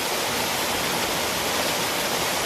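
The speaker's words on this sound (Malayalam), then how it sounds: "എത്താൻ കൊതിച്ച വെള്ളച്ചാട്ടം" Chattupara waterfall hidden in the forest roars steadily, a loud, unbroken wash of falling water close by with no voices.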